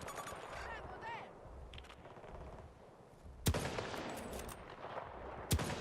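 Sniper rifle fire in Battlefield 2042, two sharp, loud shots spaced a couple of seconds apart amid game ambience, with someone talking throughout.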